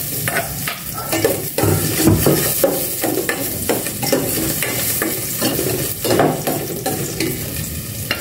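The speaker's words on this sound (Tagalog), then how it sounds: "Igis na ako ng itong bawang." Garlic sautéing in a hot pan, with a steady sizzle broken by repeated stirring scrapes in an irregular rhythm, close and fairly loud, without talk.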